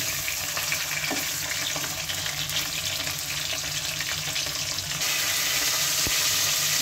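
Chara punti fish frying in oil in a wok, a continuous close sizzle and hiss with faint scraping and a couple of soft knocks, no talking.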